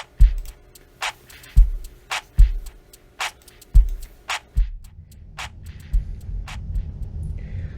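Clicky percussive Rubik's cube taps form a drum-like beat, thumping low hits alternating with crisp ticking accents from a pitched-up 2x2 cube turning, then a rumbling texture takes over near the end.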